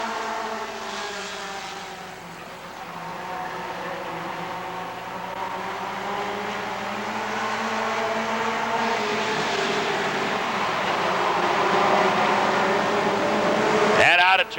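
NASCAR American Short Track stock cars race at Rockford Speedway, a continuous loud field of engines droning and rising in pitch as the pack accelerates, with a commentator talking over the roar.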